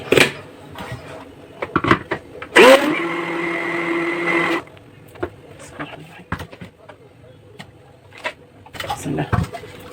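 An electric blender whirs loudly for about two seconds while beating cake batter ingredients, surrounded by clattering, bumping and handling noises.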